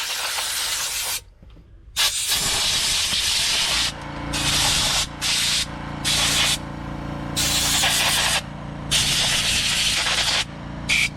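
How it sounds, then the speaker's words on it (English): Compressed air blows in loud hissing bursts across a Traxxas Revo 3.3 RC nitro engine to clear debris, several long blasts separated by short pauses. "Make sure you guys spray some air in there."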